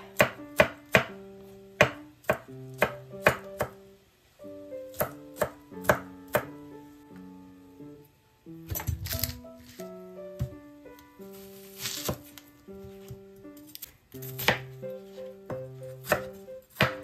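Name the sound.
chopping garlic with a knife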